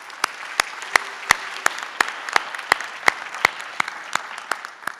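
An audience at an optometry graduation ceremony gives sparse, loud applause: a few distinct, well-spaced claps ring out over a soft wash of clapping.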